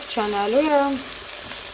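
Meat and eggplant fry in a pan while being stirred, a steady close sizzle running under a brief spoken phrase.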